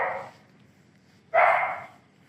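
A dog barks nearby, two loud, sharp barks separated by a pause of about a second, heard clearly over a quiet room.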